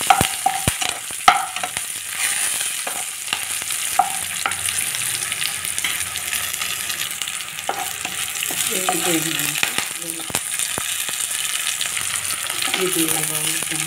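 Mustard, coriander, cumin and fenugreek seeds roast in a pan for vankaya pachadi with a continuous dry crackle and hiss, broken by scattered sharp ticks and scraping stirs, loud and close throughout.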